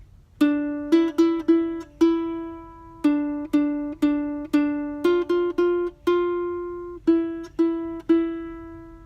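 Guitar plucking a melody, clean single notes picked in short phrases with repeated rhythmic figures, each note ringing and decaying, played alone and fairly close.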